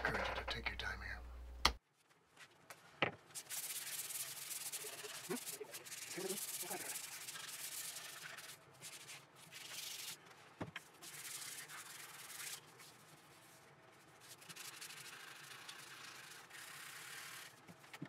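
Hand sanding a wooden rocking horse produces a continuous soft rasping scrape, close and steady for most of the stretch, with brief knocks and pauses between strokes and no talk.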